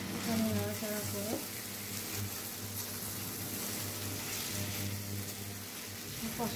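Chicken curry masala sizzles steadily in a pan, frying over raised heat with spices catching on the bottom, with occasional stirring scrapes over a continuous low frying hiss.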